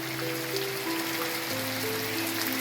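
Steady rain falling in the countryside, a soft, even patter and hiss at low level throughout, with faint tonal hum underneath and no voices.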